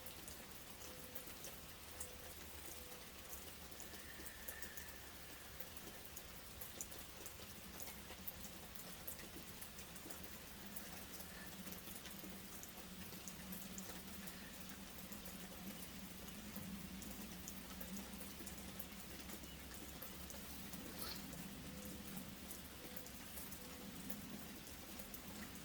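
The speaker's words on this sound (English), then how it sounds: "The rain getting a little bit more intense," Steady rain falls in a soft, continuous patter of drops on surfaces, gentle and even throughout with no voices, easing slightly heavier toward the end.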